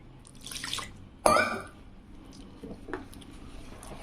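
A brief splash of water poured into a thick boondi laddu batter, followed by quieter wet stirring and dripping sounds.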